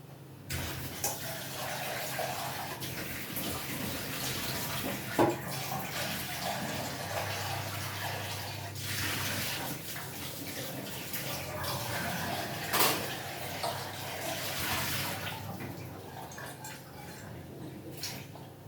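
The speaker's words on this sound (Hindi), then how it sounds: "तो चायदानी धो लेते हैं।" A teapot being rinsed under a running kitchen tap, with steady water flow and splashing through most of the stretch, fairly close and moderate in level, with no talking over it.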